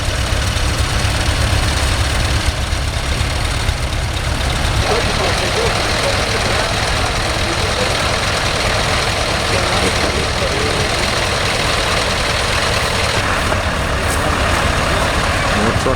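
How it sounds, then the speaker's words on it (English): Convoy of trucks idling on a dike in Lopik, Holland, a continuous heavy low engine rumble with steady broadband noise, close and loud, with people talking over it. "More trucks on the dike,"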